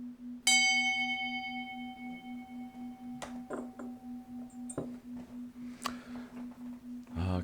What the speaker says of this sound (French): Ah, que j'aime le gong de la synchronisation.